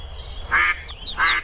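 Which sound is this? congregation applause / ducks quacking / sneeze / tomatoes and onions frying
ducks quacking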